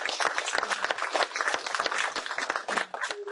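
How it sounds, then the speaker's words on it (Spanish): Applause at the close of a talk on Marxism in Madrid, a brief patter of many hands clapping at mid distance for about three seconds. "Te damos un fuerte aplauso."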